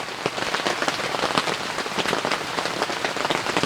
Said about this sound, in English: The rain is still coming down.